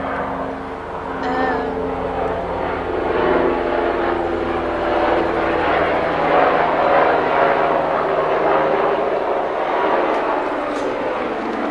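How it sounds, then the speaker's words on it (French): A steady helicopter engine roar with rhythmic rotor pulsing swells and fades overhead, loud and continuous, with a voice talking now and then. "Un hélicoptère."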